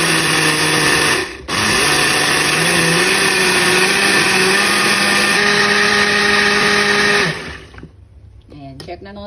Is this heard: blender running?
yes